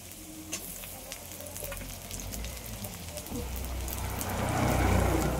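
Onion and chopped tomato frying in a pan, a steady crackling sizzle that grows slightly louder toward the end, with faint stirring and no voices.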